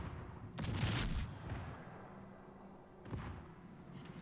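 Aerial depth charges exploding in a naval video game while attacking a submarine: two heavy, muffled booms, one near the start and a weaker one about two and a half seconds later, each with a rumbling tail.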